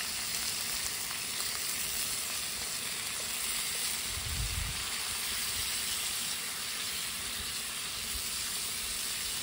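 Steak frying in plenty of butter over an outdoor stove on a shoreline at dawn, a loud, dense, continuous sizzle with a brief low thump partway through.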